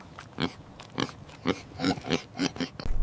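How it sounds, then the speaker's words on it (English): A large black farm piglet grunts and oinks in a series of short, rapid, uneven bursts, close by with no other sounds. "This is a large black farm piglet."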